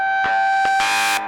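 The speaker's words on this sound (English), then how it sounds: "we get really gnarly feedback whenever there's not a sine wave being fed through the whole array" A harsh, buzzing synthesizer feedback tone from a bass synth in Ableton Live, with steady high pitches, broken by sharp noisy bursts, rising into a dense, distorted roar before cutting off.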